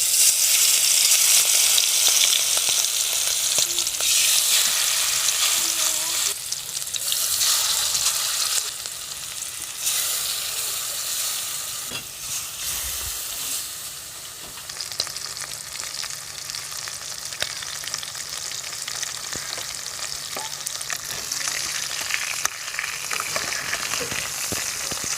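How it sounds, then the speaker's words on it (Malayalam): Hot coconut oil in a frying pan sizzles and crackles steadily for a long stretch, with occasional stirring, close and fairly loud with no talking. "എന്നിട്ട് നമുക്ക് പൊരിക്കാം."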